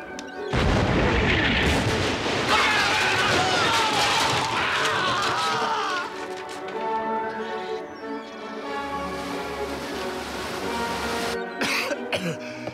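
Ships fire cannons during a sea battle in the 1992 Sinbad film, with loud overlapping booms and blasts in the first half that give way to a lower, rumbling din.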